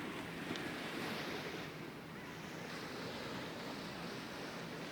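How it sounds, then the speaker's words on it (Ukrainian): Surf rolling onto a beach in Malaga, Spain, a steady broadband wash of waves with wind noise buffeting the microphone throughout, no voices. "Море безподобне, просто безподобне,"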